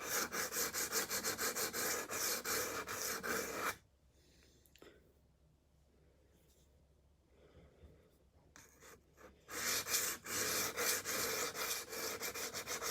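Kitchen knife drawn across a whetstone in steady, close, loud scraping strokes, a quiet pause in the middle before the rhythmic grinding resumes.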